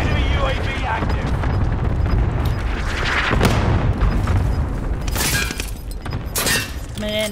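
Cluster strike explosions in the video game Call of Duty: Modern Warfare: heavy booming blasts and crackling debris rolling through, loud and layered, with sharper bursts near the end and voices talking over the action.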